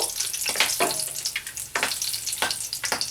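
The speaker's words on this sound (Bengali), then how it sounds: "এলাচ, লবঙ্গ, দারচিনি, একটু ভেজে নেব।" Whole cardamom, cloves and cinnamon fry in hot oil left from frying katla fish, giving a steady close sizzle broken by several stirring scrapes, with no voices.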